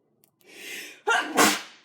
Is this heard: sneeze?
yes